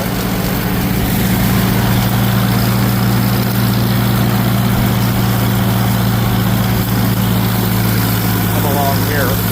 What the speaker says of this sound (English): I need to mow this right here